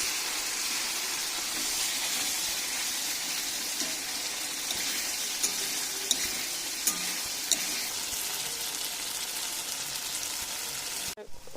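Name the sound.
masala frying in oil for mutton curry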